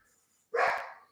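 Dog barks once in the background, a short, faint, muffled bark after a brief quiet moment.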